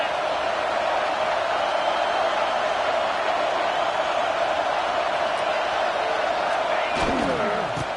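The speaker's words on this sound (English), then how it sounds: "This crowd trying to make life miserable for this offense." A stadium crowd roars in a college football video game, a dense, loud, unbroken wall of cheering and noise filling the whole stretch, with a sharp thud near the end.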